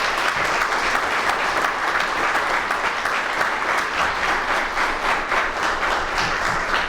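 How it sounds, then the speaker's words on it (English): Sustained, even applause from a conference audience at an OSA midyear meeting, honoring Dr. Allo, with dense clapping holding steady throughout. "Please just give him a round of applause for Dr."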